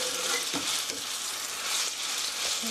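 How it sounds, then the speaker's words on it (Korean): Garlic frying in one to two tablespoons of olive oil for spaghetti aglio e olio, a continuous close hiss and crackle of sizzling oil with a few soft stirring scrapes, no voices. "마늘은 이렇게 알 노릇노릇하게 볶아줘야 제 맛이 나요."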